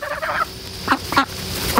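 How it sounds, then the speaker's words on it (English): Ducks being fed in a backyard, giving several short nasal quacks and honks close by in a brief burst, with no talking. "I don't even have to go to the park to feed the ducks"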